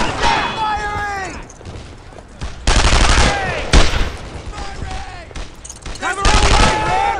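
Gunfire in the World War II shooter game Brothers in Arms: Earned in Blood, with loud bursts of rifle and machine-gun shots in several volleys and someone shouting over the firing.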